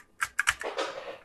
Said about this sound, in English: So I did get it to boot into a prompt so I can actually test the keyboard.